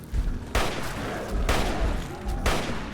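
Loud gunfire in the Fallout video game, three heavy booming shots roughly one second apart over a rumbling, noisy game background.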